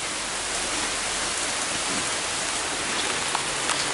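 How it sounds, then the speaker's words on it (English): Steady evening rainfall patters continuously, close and loud, with a few slightly sharper drops near the end and no talking. "well, it's raining tonight."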